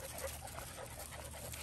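A scared little puppy whimpers softly and repeatedly, tucked away from an older dog, with faint, breathy high cries over a steady low background rumble.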